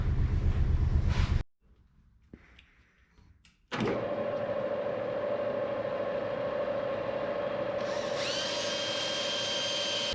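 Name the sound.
sanding wood with 240 grit sandpaper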